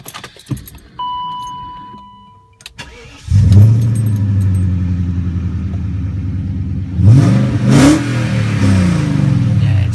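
A 1998 BMW 535iA with automatic transmission cranks and fires up from quiet, keys jangling first, then settles into a steady idle before a sharp rev rises and falls, loud and close.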